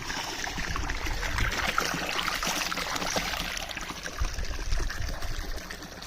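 Borewell water flows into a farm pond with a soft, continuous trickling and splashing, moderately faint, steady with slight surges and no talking.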